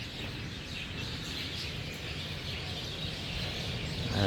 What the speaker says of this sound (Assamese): ইমান আৱাজ দি আছে গাইজ চৰাইবিলাক।